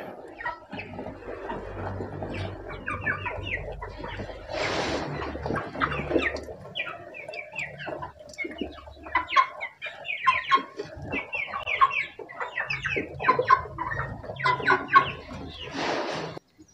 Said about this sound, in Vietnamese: Đàn gà đang phát triển.